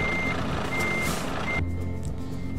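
A truck reverses in Euro Truck Simulator 2, its steady high reversing beep droning loudly under engine rumble and then cutting off abruptly partway through, leaving a low idle.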